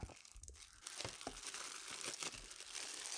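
Plastic film being peeled and crinkled off the packaging of a GoPro Hero 8 Black camera during unboxing, close and continuous, with sharp crackling bursts and brief tearing sounds throughout.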